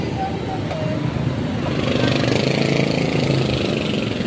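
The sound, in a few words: motorcycle engine idling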